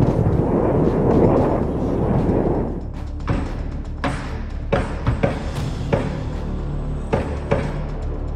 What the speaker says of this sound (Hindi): इजराइल में रहने वाले लोगों की नींद रॉकेट के धमाकों और गोलीबारी की आवाज से